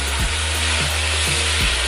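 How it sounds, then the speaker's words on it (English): Peppers and tomatoes fry on medium heat in a pan, giving a steady close sizzle with soft periodic scraping or stirring thumps underneath. "I'm going to fry this a bit, maybe like 7 minutes"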